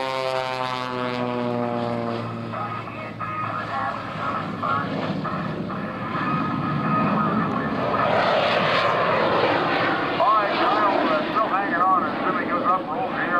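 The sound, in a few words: aerobatic airplane flying past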